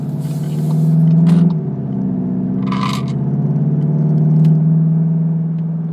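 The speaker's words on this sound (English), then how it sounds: "That's sport engine sound" A 2020 Volkswagen Jetta GLI with a 7-speed automatic drones in sport mode while cruising, a loud steady engine tone that rises and dips slightly, with a brief clatter midway.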